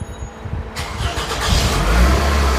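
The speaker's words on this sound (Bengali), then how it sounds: "একটু স্টার্ট দিয়ে দেখে ভাই ইঞ্জিনটা" A used Toyota C Noah car engine cranks and catches, then settles into a loud, steady idle rumble heard up close.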